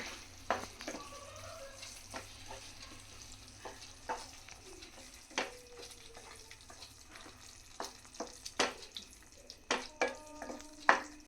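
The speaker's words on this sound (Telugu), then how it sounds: "ఎగ్ తురుము చక్కగా ఇదంతా ఒక్కసారి కలిపేద్దాం" Grated egg stirred into an egg keema curry frying in a pan: a steady soft sizzle with irregular sharp scraping clicks of the spoon against the pan, close and alone.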